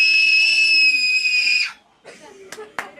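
A group of people screams as loudly as they can in one long, sustained high shriek lasting over a second and a half, then breaks off into scattered laughter and voices.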